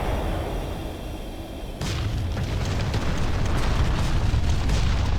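Artillery bombardment in the real-time strategy game Ground Control, a heavy rolling roar of overlapping explosions that swells suddenly partway through and then holds as dense, continuous rumbling booms.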